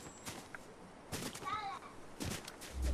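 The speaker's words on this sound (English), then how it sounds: "Somebody else shooting from over here." Gunfire in Fortnite, a few distant sharp shots spaced apart amid game ambience, faint under a player's talk.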